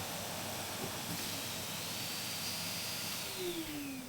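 Steady loud whooshing hiss of a Henry vacuum cleaner running on suction, continuous throughout with a faint whistling tone, no talking.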